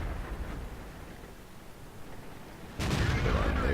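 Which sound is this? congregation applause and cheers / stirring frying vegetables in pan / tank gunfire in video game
tank gunfire in video game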